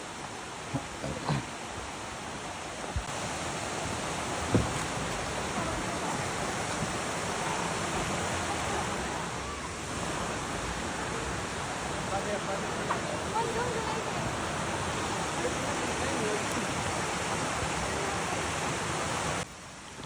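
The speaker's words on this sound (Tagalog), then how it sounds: "ramdam na natin yung ragasan ng tubig" Can-Umantad Falls in Bohol rushes with a constant, loud roar of falling water that stays even for the whole stretch, and a person talks over it.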